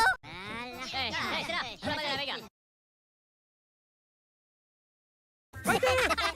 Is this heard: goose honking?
yes